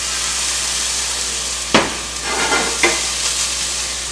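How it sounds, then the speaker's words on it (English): Onions and shallots sweat in a hot pan, a loud, steady sizzle close by, broken by a few scraping stirs. "So onions and shallots, sweat, smell."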